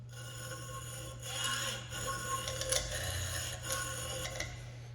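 An 18-teeth-per-inch general purpose hacksaw blade notches metal stock held in a vise, making faint rasping strokes in a slow back-and-forth rhythm over a steady low hum, with no talking.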